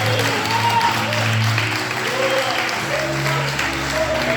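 A church congregation claps during a prayer service, a steady wash of applause blended with sustained musical tones and a voice rising above it.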